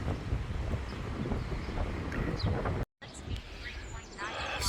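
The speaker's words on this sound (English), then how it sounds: "It's got to be 30 knots of wind, gusting 35 coming up here." Strong gusting wind on a hill climbing out of Fisterra on the Camino Finisterre buffets the microphone in a loud, rough rumble, cutting out for a moment before gusting back.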